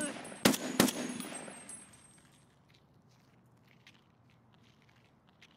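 Gunfire at Scavs in Escape from Tarkov, two sharp close shots early followed by a fading tail and faint distant clicks; quiet talk in the background.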